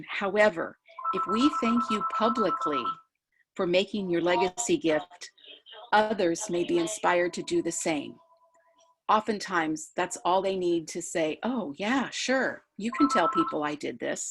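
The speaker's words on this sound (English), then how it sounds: "I apologize for the ringing phone in the background." A telephone rings repeatedly in the background in short, steady bursts while a person speaks continuously over it, the ringing fainter than the voice.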